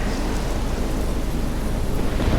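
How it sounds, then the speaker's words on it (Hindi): Steady rain and rumbling thunder from a storm scene in the video game Life Is Strange, a dense continuous wash of noise with low rolling weight throughout, no voices. "अभी इस स्टॉर्म से तो बचना पड़ेगा"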